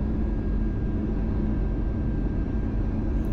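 A steady, dense cabin drone fills the inside of an airliner as it descends toward landing, with a low engine rumble and a faint constant hum and no voices.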